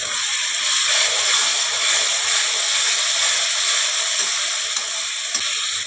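Onion paste and green chilli paste sizzle steadily in a hot pan for a potato chicken curry, a dense, loud, continuous frying hiss with no one talking.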